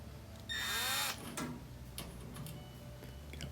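Screws being tightened on a washing machine during a fill-valve repair, a brief loud whirring burst lasting about half a second with a rising squeal, followed by faint ticks and clicks from a home setting.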